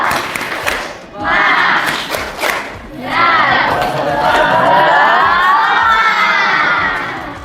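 Schoolchildren in a classroom shout a spirit clap chant together, a loud group yell in bursts with brief gaps, ending in a long sustained chorus of voices.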